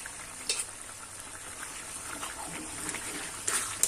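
Prawn and gongura curry cooking in a pan, a soft steady frying hiss throughout with a couple of brief clinks or stirring knocks near the start and end, fairly quiet, no voices.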